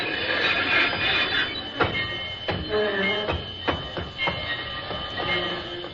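A train rumbles and clanks with metallic knocks and faint squeals as it slows, a steady roar underneath the intermittent clatter.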